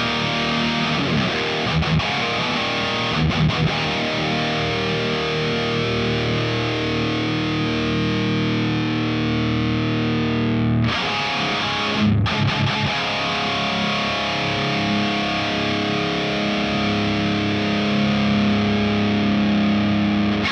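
Electric guitar played through a Kemper amp profile, loud heavily distorted riffs and sustained chords for about twenty seconds, with brief stops and no talking.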